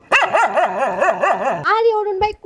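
A dog yelping while being beaten, heard as a loud, wavering run of pained howling yelps that sound like a human voice imitating a dog, followed by a brief vocal sound close by.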